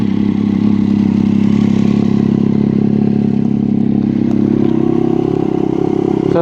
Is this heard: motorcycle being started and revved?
yes